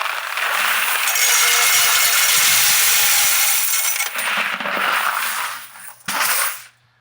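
Quarters pouring into a laundromat washer coin box, a loud prolonged metallic clatter and jingle that thins out, followed by a few last clinks and a short knock near the end.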